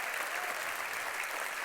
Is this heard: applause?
yes